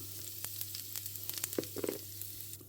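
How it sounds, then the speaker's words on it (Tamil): Mustard seeds drop into hot sesame oil and sizzle, with quick crackling pops clustering toward the middle of a short, moderately quiet burst of frying. "நல்லெண்ணெய் தான் சூடாக்க வச்சுருக்கேன் கடுகு போடுவோம்"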